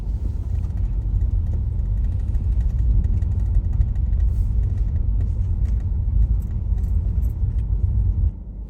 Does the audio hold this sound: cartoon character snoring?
no